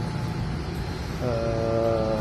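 A steady car horn sounds partway through, a sustained honk over a background of low engine rumble and road noise.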